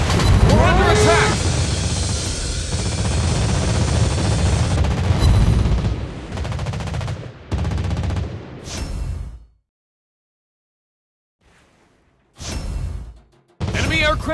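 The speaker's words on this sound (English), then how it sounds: "Anti-aircraft gun on full alert." Rapid anti-aircraft gunfire aboard the Soviet Tier 6 cruiser Molotov in World of Warships Blitz, loud dense rattling bursts with whooshes, dropping to silence before short renewed bursts, with voices speaking over it.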